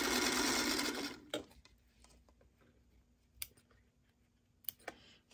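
A sewing machine stitches 1.5 inch fabric squares together in a brief loud whirring burst, then stops, leaving faint scattered clicks and handling sounds in a quiet room.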